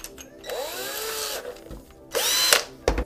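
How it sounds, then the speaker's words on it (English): A power drill fitted with a 1/4 inch bit bores a small hole into a cap for a DIY clay extruder, giving two close, loud whining bursts that rise in pitch, with a short buzz at the end and no talking. "start out with a small hole. Here's a 1/4 inch drill bit."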